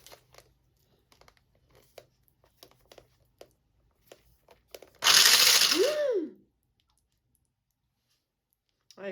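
Halloween food being mixed with oil in a pot: scattered light clicks and taps, then one loud whirring mixing burst lasting about a second and a half before it cuts to near silence.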